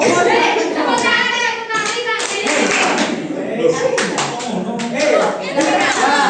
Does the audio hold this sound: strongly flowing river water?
no